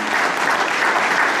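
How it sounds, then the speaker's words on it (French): Audience applause at a pastry chefs' ceremony, the Meilleur Ouvrier de France pâtissier event, a dense, steady wash of many hands clapping close and loud throughout. "Applaudissements, s'il vous plaît."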